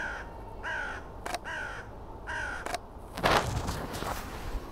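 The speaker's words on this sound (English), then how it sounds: "A crow" A crow perched on a treetop gives four evenly spaced loud caws, followed by a few sharp clicks and rustling outdoors in a quiet woodland.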